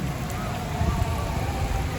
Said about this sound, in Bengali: বাইরে হচ্ছে এখন ব্যাপক বৃষ্টি